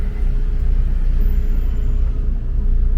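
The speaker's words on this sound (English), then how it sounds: "Koreatown, so heavy traffic." Constant low road rumble of heavy traffic in Koreatown, heard from inside a moving car as an even, steady roar with no voices.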